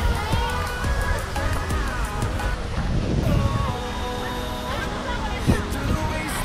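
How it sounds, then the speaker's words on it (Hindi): Water spray splashing at Merlion Park in Singapore, heard as a steady loud wash of splashing water with wind, while someone talks over it and other voices murmur in the background. "पानी की बौछार आ रही है थोड़ी थोड़ी मेरे ऊपर"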